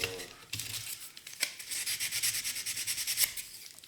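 Hand sanding of a scale model part with 400-grit sandpaper, producing a steady run of close, scratchy rubbing strokes with a soft rhythmic back-and-forth texture.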